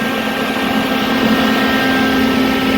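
A tractor air-conditioning blower fan runs on an 18-volt DeWalt battery, giving a loud, steady, close whir with a constant tonal hum and no variation.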